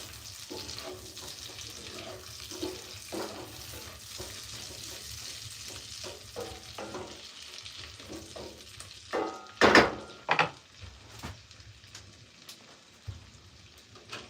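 Deer heart stew stirred in a pot at a cabin. Soft, close scraping and clinking under a low simmering hiss, with a cluster of louder knocks near the end and no talking.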